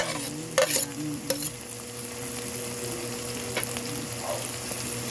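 Alamang (tiny shrimp paste) fries with caramelized tomatoes in a pan. A steady, close sizzle runs throughout, broken by a few scraping stirs of a utensil.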